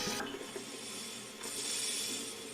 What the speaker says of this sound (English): He's flushing the toilet